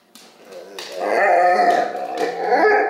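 A dog howls and vocalizes in drawn-out, wavering yowls that swell and hold close and loud, with brief rises and breaks in pitch and no talk over it.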